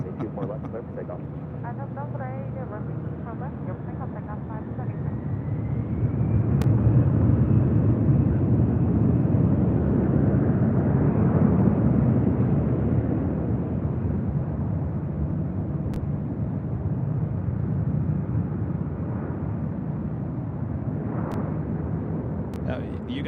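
A jet airplane takes off from runway 24 left at LAX, its broad engine roar swelling as it builds power and then holding steady in the distance, while voices talk intermittently over it.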